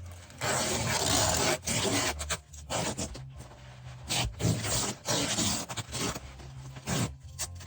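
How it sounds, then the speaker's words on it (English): Masking tape is pulled and pressed around a model horse being wrapped for shipping, giving close, soft bursts of ripping and rubbing with short pauses between strips. "Okay, back over here, more masking tape."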